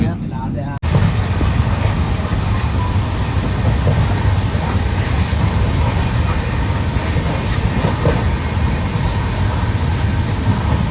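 A long-distance train runs from Mumbai toward Delhi through Rajasthan, heard from inside a third AC economy coach as a steady, close rumble and rattle with a faint clickety-clack, with voices beneath.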